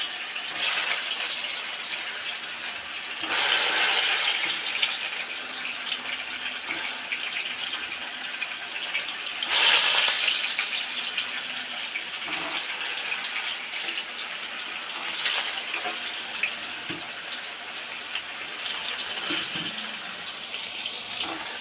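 Pointed gourd (potol) frying in hot oil after lightly fried potatoes, a steady broadband crackle and hiss with a few louder surges, continuous and fairly close, no talking.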